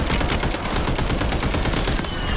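Dense, rapid automatic gunfire rattles nonstop in a Warzone video game match, loud and close, with no gaps and no talking.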